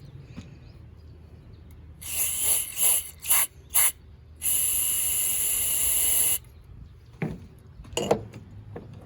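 A can of spray cleaner hisses into the oil outlet thread of a four-wheeler in a few short bursts and then one longer spray, with clicks and handling noises in between.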